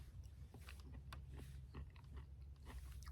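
Crunchy cooked zucchini being chewed close up outdoors in the Drift Creek Wilderness, a quiet run of irregular crisp bites and munching over a low steady background rumble.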